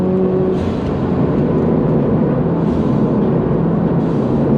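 A Subaru BRZ's engine roars loudly and steadily as the car accelerates to pass a Mustang at a supercar meet, with a dense, sustained revving drone throughout.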